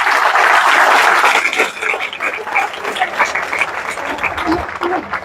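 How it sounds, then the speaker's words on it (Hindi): Audience applause at a motivational network-marketing seminar in India, a dense, loud burst of clapping that fills the first second and a half, then thins and tapers while continuing at a lower level. "एक बार ताली बजाइए साहब"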